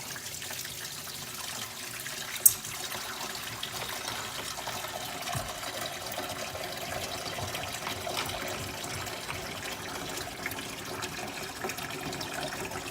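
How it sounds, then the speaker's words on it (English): Water drains steadily from an FX6 aquarium canister filter into a sink, a constant close rushing trickle with one small knock early on. "So for starters, I just plug the sink and let it drain."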